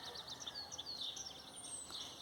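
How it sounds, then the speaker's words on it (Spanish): Songbirds chirp and whistle in short, high, faint phrases scattered through a quiet outdoor background, with no talking. "Estamos escuchando los cantos de los pájaros."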